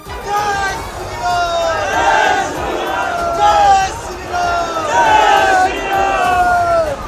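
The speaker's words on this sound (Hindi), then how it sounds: "भगवा झंडों के साथ पहुंचे लोगों ने वहां हनुमान चालीसा का पाठ किया और इसके बाद नारेबाजी शुरू कर दी।" A dense crowd of protesters carrying saffron flags shouts slogans outside a shop, many voices rising and falling in loud waves of chanting and babble that fill the whole stretch.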